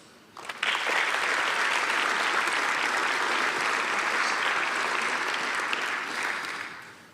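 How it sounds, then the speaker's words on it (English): Loud, sustained applause from the audience at a fire department recruit graduation ceremony, rising abruptly after a brief quiet start and holding steady for several seconds before tapering slightly. "That alone deserves an applause."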